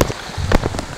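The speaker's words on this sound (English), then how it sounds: "we have crazy rain." Heavy rain pours steadily in the California mountains, a dense, loud hiss of drops striking the ground and surfaces close by, with a few sharper splashes standing out and no one talking.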